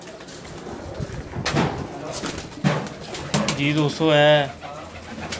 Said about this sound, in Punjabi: ਭਾਈ ਨੌਵੀਂ ਦੇ ਬਲੀਡਰ ਕਬੂਤਰ ਨੇ